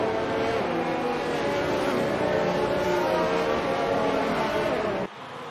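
Formula 1 race cars running under safety car conditions in an F1 video game at Abu Dhabi, with a steady, loud engine drone that holds throughout and then drops off abruptly near the end.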